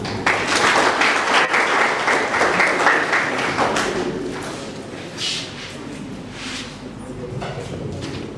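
An audience applauds at a workshop on municipal democratic development, steady dense clapping for about four seconds that then thins out and fades, with some voices heard over it toward the end.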